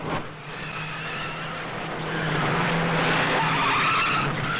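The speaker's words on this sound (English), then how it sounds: "Auto racing also had its share of thrills, along with some incredible spills." A 1959 Belgian Grand Prix race car skids and crashes on the circuit, a loud, steady roar of engine and screeching tyres that swells and grows harsher over several seconds, with no talk.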